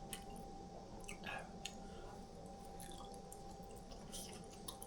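Close, quiet chewing on a mouthful of tteokbokki, sundae and fried snacks, with soft wet squishes and occasional light crunches spread over a few seconds, no talking.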